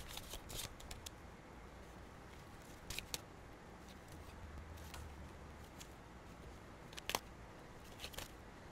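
Tarot cards are shuffled and drawn, with soft faint riffles and a few sharp crisp flicks and snaps scattered over a quiet, hissy background, no talk.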